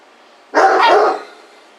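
A single loud, close dog bark rings out suddenly in an otherwise quiet outdoor setting, a short harsh burst with no other voices.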